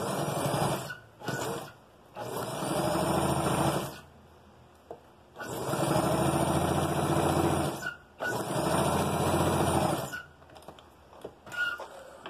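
A sewing machine runs in three long bursts as it stitches elastic onto small doll shorts, with brief pauses between runs and a few softer clicks near the end; no one speaks.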